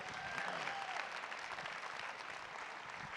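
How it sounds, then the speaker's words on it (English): An audience at a celebration event applauds steadily for a speaker, a continuous wash of clapping at even volume. "Give another round of applause for Dr. Gearity."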